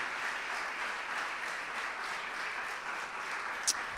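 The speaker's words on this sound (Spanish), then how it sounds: "Dame un fuerte aplauso a Él en esta noche." Church congregation applauding during a service, a dense, even wash of many hands clapping at a moderate distance, steady for the whole stretch with no talk over it.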